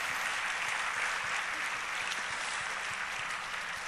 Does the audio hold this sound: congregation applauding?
yes